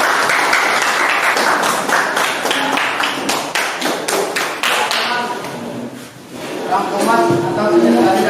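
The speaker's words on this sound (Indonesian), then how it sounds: "Tepuk tangan dulu." Classroom applause from a group of teachers during a coaching session, dense clapping with sharp taps and thuds that swells, dips briefly, then returns, mixed with voices.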